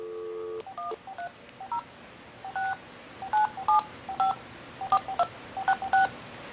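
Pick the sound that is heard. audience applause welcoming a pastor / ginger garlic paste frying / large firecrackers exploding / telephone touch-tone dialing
telephone touch-tone dialing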